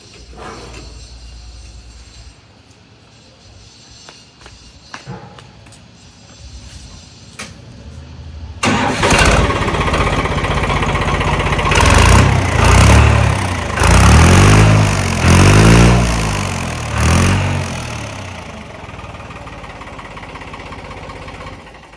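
A New Holland tractor without a turbo, fitted with a single-pipe silencer, idles quietly at first, then revs up into a loud, throaty running roar with rhythmic pulsing surges, close by.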